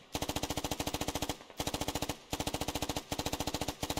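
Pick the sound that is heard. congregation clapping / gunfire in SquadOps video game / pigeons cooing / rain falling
gunfire in SquadOps video game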